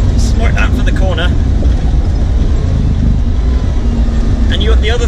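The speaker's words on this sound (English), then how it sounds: "Now I start to get some of the rumble from that glorious V8." A Land Rover 101 with a V8 engine drones with a constant low rumble while driving, and someone talks over it throughout.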